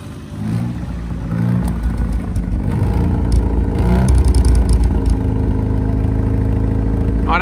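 A Nissan Tsuru engine, running fine after a spark-plug repair, idles and then revs up into a steady, loud mid-pitched hum with slight rises in speed, heard close with no talk.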